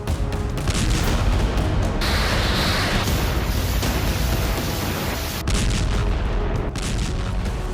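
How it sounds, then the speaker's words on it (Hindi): A powerful explosion in Kakhovka, Ukraine, rendered as loud, sustained booming and rumbling blasts with broadband roar across several seconds, no voices present. "तस्वीर से जाहिर हो रहा है कि काखोव्का में जोरदार धमाका हुआ है।"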